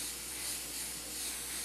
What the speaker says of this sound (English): just going to spray it nice